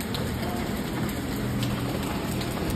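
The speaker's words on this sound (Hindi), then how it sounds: "ये देखो बारिश आ रही है" Steady rain falling on a rainy day, an even, continuous hiss of drops with faint bird calls now and then, no voices.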